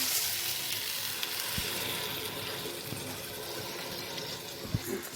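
Three cups of basmati rice are stirred in a pot for paneer biryani, a steady close sizzle and bubbling with a few soft knocks of the spoon against the pot.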